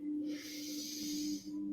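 A group inhales together during a guided breathing meditation: a soft, airy rush of shared breath lasting under two seconds, sitting over a steady low drone.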